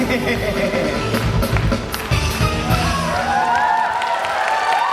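Parents and grandparents cheer and clap at a kindergarten recital, a loud mix of crowd shouting, children's voices and applause, with whistly high cries rising toward the end.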